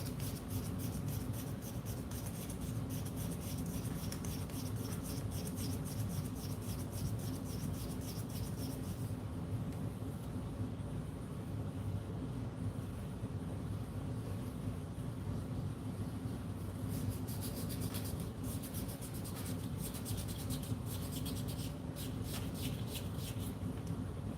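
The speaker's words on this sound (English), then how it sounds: "Now we'll hit it with the sandpaper inside all the spots that we've been working on." Sandpaper works around the inside of a silver coin ring made from a one-ounce Liberty silver round, a steady, dense scratchy rubbing that carries on close and continuous throughout.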